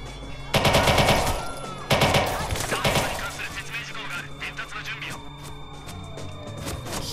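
Bursts of rapid automatic gunfire in the video game Watch Dogs 2, loud and close, followed by scattered shots and lingering rattles, with voices faintly underneath.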